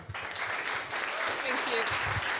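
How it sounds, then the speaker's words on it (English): Audience applause welcoming a speaker to the stage at the Munich AI Summit, steady clapping from a sizable crowd with some talk mixed in. "Let's cheer up Felicitas"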